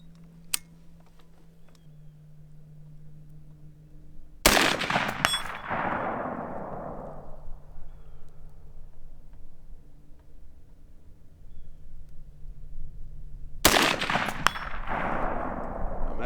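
Colt A2 Government Carbine clone rifle shots outdoors: two sharp, loud, isolated reports about nine seconds apart, each followed by a long echoing decay over a quiet background hum.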